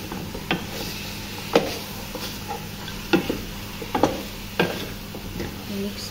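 Bay leaves and lemon stirred into a pot of nilagang karnero, with quiet scraping and a few sharp clacks of the spoon against the pot over a low bubbling simmer, close up.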